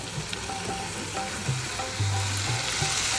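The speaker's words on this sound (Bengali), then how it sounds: "এবার কাঁঠালগুলো দিয়ে দিচ্ছি সেদ্ধ করা কাঁঠালগুলো" Boiled jackfruit pieces go into a hot frying pan for a jackfruit pitha dish, giving a steady close sizzle with a few soft stirring knocks and scrapes and no talking.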